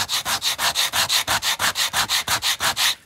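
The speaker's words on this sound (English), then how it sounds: "This is 120 grit sandpaper, 120 grit, and we're just gonna do this. And there we go, we're getting our little sanded bevel." Wood bevel being sanded by hand with 120 grit sandpaper on a miniature wood table piece, a steady run of about sixteen rhythmic back-and-forth rasping strokes, close and loud with no talk.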